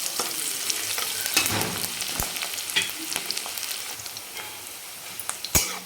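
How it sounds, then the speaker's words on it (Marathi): Chopped medium onion frying in oil and stirred in a pan while cooking a Maharashtrian amaranth-leaf dry vegetable dish; steady sizzle with scraping spoon strokes and sharp clinks at intervals, close and fairly loud, no talking. "आपण एक मध्यम आकाराचा कांदा घेतला, तो आपण टाकून घेऊ. आणि ह्याला पण चांगलं आपल्याला फ्राय करून घ्यायचं."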